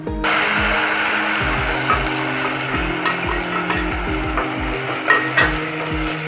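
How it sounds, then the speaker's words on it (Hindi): Onions fry in heated oil in a pot for a Saoji matar paneer, giving a steady close sizzle broken by repeated scraping strokes of a stirring utensil, with no voices. "तेल में हम डालेंगे सबसे पहले प्याज को हल्का ब्राउन होने देंगे"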